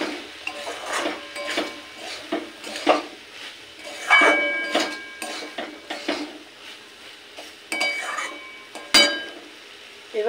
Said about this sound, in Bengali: এবার আলু আর সোয়াবিনও এই ডালের মধ্যে দিয়ে দেব। সমস্ত কিছু একসাথে ভালোভাবে মিশিয়ে নেব।